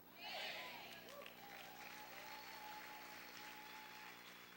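A church congregation applauds the Lord during a Spanish-language sermon, a swell of clapping rising quickly and then settling into a steady, moderately loud wash with faint voices mixed underneath.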